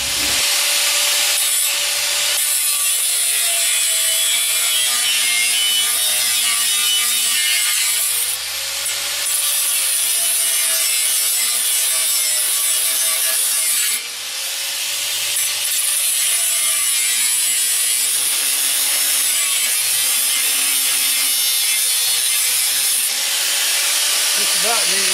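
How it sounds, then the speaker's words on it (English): A cutoff wheel slices through metal stock for the legs of a lawn mower bed frame, a continuous loud, high grinding whine held close for a long stretch, with brief dips and restarts as the cut progresses. "going to go ahead and cut off 4 legs 22 inches long."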